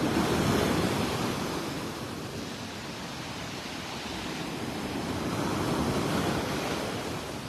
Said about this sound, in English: this is Vanderbilt Beach in North Naples, Florida